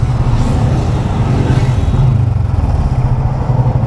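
Fast cars and motorcycles pass close by on a road, a loud continuous engine roar and rumble that rises and falls as vehicles go by.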